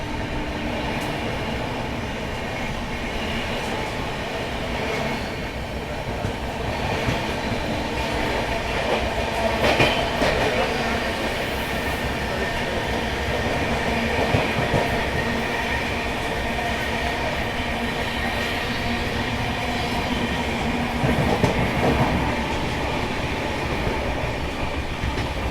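A fast passenger train runs flat out at around 110 km/h on an Indian main line, a loud, steady rolling rumble with rhythmic clickety-clack from the wheels over rail joints, continuous throughout.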